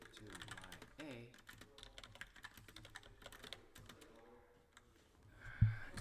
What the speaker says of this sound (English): instead of hearing the clacking of the keyboard